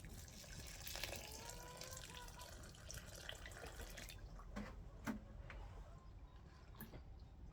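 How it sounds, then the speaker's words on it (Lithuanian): Water is poured into a cooking pot to just cover the ingredients, a faint continuous trickling and splashing that thins into a few scattered drips toward the end. "Vandens užpilsim tik tiek, kad čiut-čiut apsemtų."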